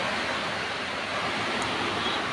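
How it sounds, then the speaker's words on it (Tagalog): Typhoon Uwan lashes Isabela with wind and rain outdoors, heard as a dense, steady roar of noise with no breaks. "Nakapasok na po dito sa Isabela yung Bagyong Uwan."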